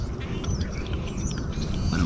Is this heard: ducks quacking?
yes